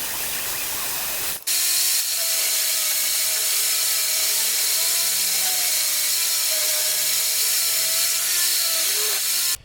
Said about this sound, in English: I'm going to go onto the table saw here, and I'm actually going to cut a 1/4 inch off each side.